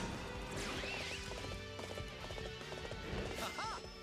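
Horses in the battlefield game Dynasty Warriors 8: Xtreme Legend on PS3, with clattering hooves and neighing amid combat clashes as a rider is knocked off a horse. Someone speaks over it.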